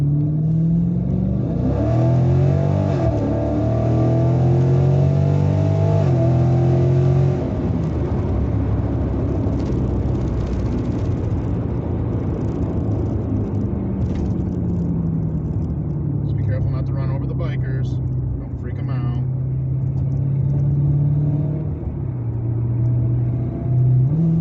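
A muscle car accelerating along a quiet straightaway, a deep rumbling engine that revs up and holds, heard from inside with someone talking over it for much of the stretch.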